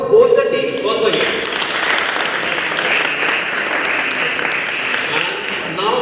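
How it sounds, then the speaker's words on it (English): Audience applause for school debate teams at an inter-class competition, a steady sustained clapping that fills the whole stretch after a brief opening. "So give a big round of applause for both the teams once again."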